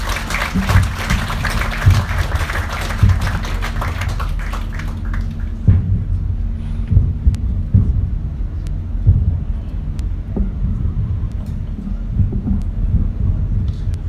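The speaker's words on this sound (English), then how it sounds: "Let's give another round of applause for the Director General, Gutierrez" Applause from the crowd at a harbour launch ceremony for the Samoa Ports Authority tugboat Sa'ula-60, a dense clatter for the first few seconds that fades into low outdoor rumble and scattered claps.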